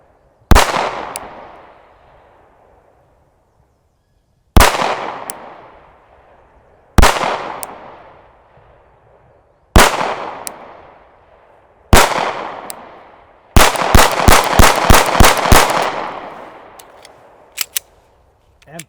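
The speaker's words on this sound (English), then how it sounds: "That is just a fun gun to shoot." Pistol shots fired at a target at close range, five single loud cracks spaced a few seconds apart, then a rapid burst of about eight shots followed by a couple of lighter clicks; no talking.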